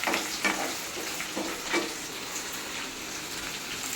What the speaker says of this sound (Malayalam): ഇത് ഒരു കുടം വെളുത്തുള്ളിയാണ് ഒന്ന് ചെറിയൊരു ബ്രൗൺ കളർ ആവുന്നിടം വരെ കഴിക്കാം